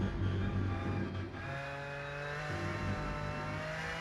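Porsche GT3 race car engine in the sim racing game Rennsport, a steady droning engine note that drops in pitch and settles into a sustained hum, moderately loud with no talk.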